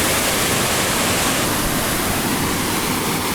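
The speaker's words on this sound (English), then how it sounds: "If it sounds like there's a giant waterfall there," Giant waterfall near Rose Lake on the Gunflint Trail, a loud, unbroken roar of rushing water filling the air, constant and close.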